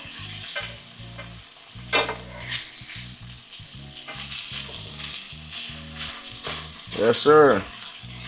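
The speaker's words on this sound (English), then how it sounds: "Bacon starting to shrink up. Grease starting to produce." Bacon strips frying in a pan, a steady close sizzle with occasional clinks and scrapes as the pieces are turned, while someone speaks briefly over it.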